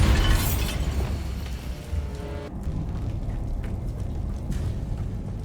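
A Bombarda blast spell goes off in Hogwarts Legacy with a loud, sharp explosive burst at the start, then a rumbling, crackling debris tail that fades into steady ambient noise.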